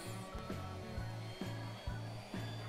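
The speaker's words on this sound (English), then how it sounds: "The next step is going to be to move over to an oscillating sander." An oscillating sander smooths the curves of a carved wooden leprechaun decoration. It gives a steady, close motor whir that pulses in a regular rhythm, about twice a second, as the sander is worked over the wood.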